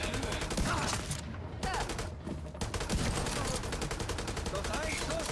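Gunfire from The Division 2 video game, with rapid automatic bursts hammering almost continuously and one short lull partway through, loud and close.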